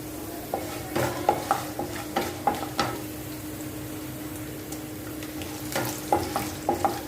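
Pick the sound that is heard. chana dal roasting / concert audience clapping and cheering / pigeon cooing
chana dal roasting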